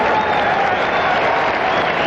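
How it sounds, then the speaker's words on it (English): Stadium crowd at Dodger Stadium in Los Angeles applauding steadily through 1978 World Series Game 1 against New York, a dense sustained wash of clapping and cheering with no break. "they all own the Dodgers, and they just will not stop applauding"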